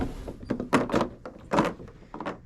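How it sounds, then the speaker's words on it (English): Bedroom door being opened, a few scattered thunks and handle clicks with soft sliding movement between them, close and moderately loud. "then if I open the door"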